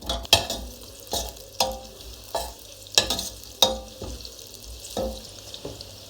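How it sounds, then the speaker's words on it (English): Onions hit hot fish-flavoured oil in a pot while black-eyed beans are being cooked Nigerian style. A constant sizzle is broken by sharp, regular stirring scrapes about every second. "I will add the onions instantly because the oil is hot already."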